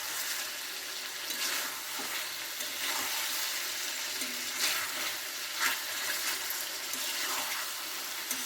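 Chicken curry frying in a pan while being stirred, a continuous close sizzle and bubbling hiss with intermittent spoon scrapes, no voices.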